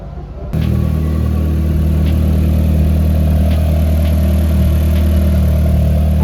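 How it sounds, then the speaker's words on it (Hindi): A Skoda Octavia VRS engine fires up for the first time after a rebuild with new harness, plugs and coil packs, then settles into a steady, loud idle with a constant low hum close by. "और ये हमारा गाड़ी का फर्स्ट स्टार्टअप भी हो गया।"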